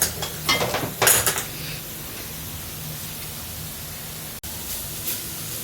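A spoon scrapes and clatters in a pan of flour cooking in butter with vegetables and chicken for white sauce pasta, a few sharp metallic knocks at the start, then a quiet steady hiss.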